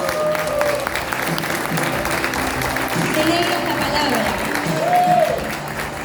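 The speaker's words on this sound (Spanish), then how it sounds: "Un aplauso al Señor" Congregation applause during a church sermon, a steady wash of clapping with a voice speaking over it and some sung or called-out tones rising above.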